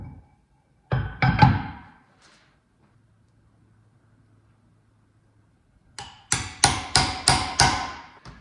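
Hammer blows drive a gear onto a gearbox main shaft: a quick cluster of metallic strikes, a pause, then a steady run of about six loud, ringing hits close by.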